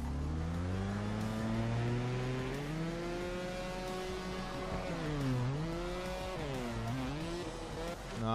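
A motorbike engine in the trials game Trials Fusion, revving hard with rising and falling whine as throttle surges and eases, loud and continuous throughout.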